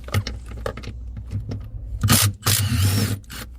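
Swivel ratchet tool working the seat bolts of a 2024 Ford Bronco, close clicking pawl and metallic mechanism sounds in short bursts, with a longer ratcheting run near the end.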